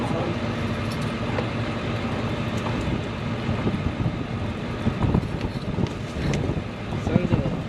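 Gusty wind buffets the microphone outdoors beside a 2010 VW Beetle 2.5 with a smashed transmission pan, a steady broadband rumble with louder gusts toward the end.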